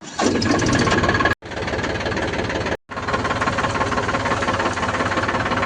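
A tractor engine chugs steadily at close range, a rhythmic mechanical rumble broken by two very brief dropouts.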